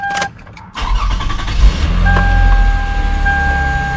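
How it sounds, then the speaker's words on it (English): The engine of a 2005 Toyota Highlander starts up during rear brake work, a short crank and catch settling into a steady close idle, with a high electronic chime sounding through the running engine. "So I'm going to start up the vehicle."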